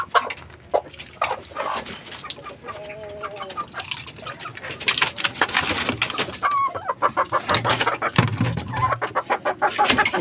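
Gamecock hens cluck repeatedly in a busy farmyard, with other fowl calling around them and a voice talking intermittently.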